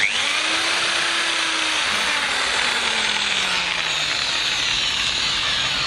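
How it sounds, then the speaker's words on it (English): Drill fitted with a 1/4 inch routing bit grinding into an HDPE plastic fuel tank, a loud close continuous whir whose pitch sags as the bit bites, with no speech. "I'm using a large bit with the hope, a 1/4 inch with this routing piece on."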